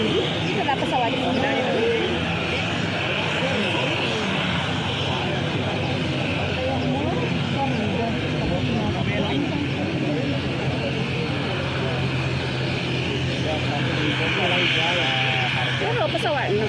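A passenger airplane at Arung Palakka airport in Bone, serving the Bone–Makassar route, gives off a steady, loud engine drone with a broad hiss for the whole stretch while people talk over it.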